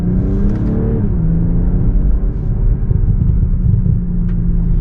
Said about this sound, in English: Hear the rumble of the exhaust.